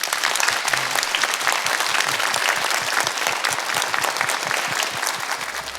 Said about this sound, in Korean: 답변해 주신 교수님께 큰 박수 부탁드립니다